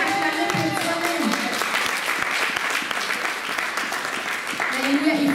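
A church congregation applauds steadily for several seconds, loud and dense clapping, while a voice speaks and calls out over it.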